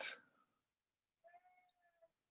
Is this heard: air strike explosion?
no